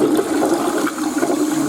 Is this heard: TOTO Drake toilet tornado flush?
yes